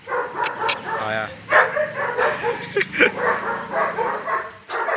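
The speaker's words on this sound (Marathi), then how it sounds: "लय भुकायला लागली रे." Several dogs keep barking and yipping outdoors in uneven, overlapping bursts, fairly close and loud, mixed with people's talking voices.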